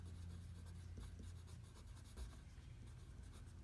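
Pencil scratching steadily across paper, a soft continuous scraping as someone writes, quiet and close with faint background hum.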